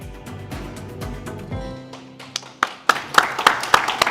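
At a conference plenary session, a lingering musical tone fades and then a handful of scattered, sharp audience claps ring out, sparse and uneven rather than full applause.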